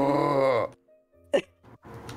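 A drawn-out, multi-part gasp or groan, a voiced moaning breath that rises and falls, then a sharp intake and a few rough breathy bursts, close and fairly loud.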